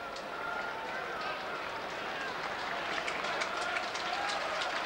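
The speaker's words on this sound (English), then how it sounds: "Burnley fans applauding their side" Burnley supporters applaud their side in the stadium during a 2001 Division One match against Walsall, a distant, diffuse wash of crowd clapping with a commentator talking over it.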